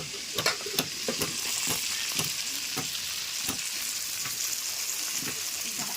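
Steady sizzling of chicken sausages frying in hot oil, with scattered crackles and a few louder clatters of stirring near the start.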